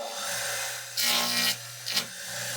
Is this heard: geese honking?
no